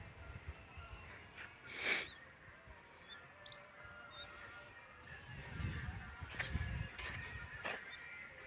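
Geese honking outdoors, a few loud nearby calls standing out over a quiet background, with scattered softer honks and bird sounds spread through the scene.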